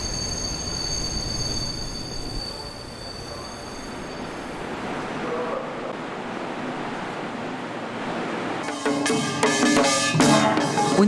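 A commuter subway train linked to the capital region runs along steadily with a broad, rushing rumble, and near the end a louder clatter of wheels and squealing metal rises up close.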